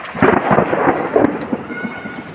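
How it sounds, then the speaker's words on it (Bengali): Thunder from a lightning storm rolls over a river island under dense clouds: loud, low rumbling peals arrive in several heavy bursts, with a steady hiss of rain or wind filling the background. "বিদ্যুৎ চমকাচ্ছে"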